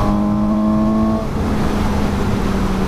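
A 2017 Suzuki GSX-S750 motorcycle engine drones loudly and steadily nearby, its tone shifting partway through as the revs change, with no talk over it.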